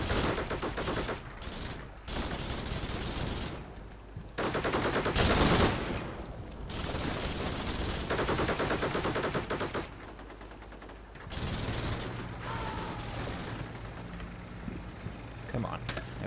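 Bursts of machine gun fire crackle through the Combat Mission: Shock Force 2 war game battle, rapid repeated reports in several long volleys broken by short pauses, loud and dense, mixed with a voice talking over the action.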